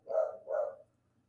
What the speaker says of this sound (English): Oh my goodness, my dog is barking.